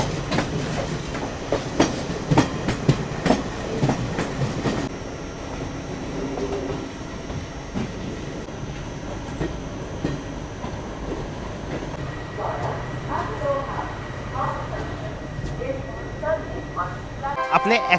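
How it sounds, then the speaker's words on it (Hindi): The 15013 Ranikhet Express pulls into Moradabad Junction at night alongside another express. A steady rumble of rolling stock runs throughout, with repeated clattering wheel knocks, some heavy thumps early on and faint voices in the background. "मुरादाबाद जंक्शन रेलवे स्टेशन पर हमारा पैरेलल अराइवल हो रहा है जम्मू तवी से चलकर वाराणसी की ओर जाने वाली बेगमपुरा सुपरफास्ट एक्सप्रेस"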